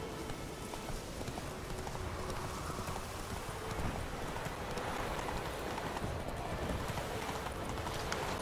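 Roach, the horse in The Witcher 3 video game, clip-clops at a steady hoofbeat rhythm. The hooves are heard under a dense, continuous wash of ambient noise that sounds like rain, with no talk.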